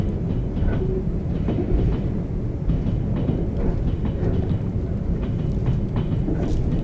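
Steady rumbling of a train running on rails in Trans-Siberian Railway Simulator, a continuous low drone with faint rhythmic clicks throughout, heard alone without talk.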